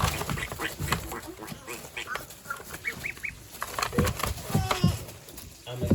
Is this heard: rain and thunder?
no